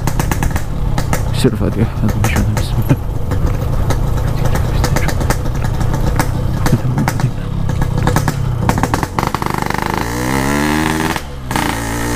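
A motorcycle with a loud exhaust rumbles continuously up close, its engine note rough and throbbing throughout, with a brief spoken phrase over it.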